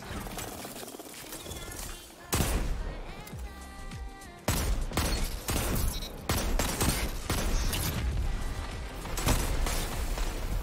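Rapid gunfire in the video game Destiny 2, repeated sharp shots and bursts in quick succession over game sounds, with talk mixed underneath.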